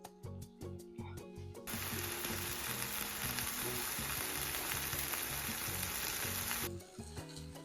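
Three chicken cutlets frying in a pan, a loud steady sizzle that bursts in suddenly and holds for several seconds, then cuts away to quieter background with soft tonal notes.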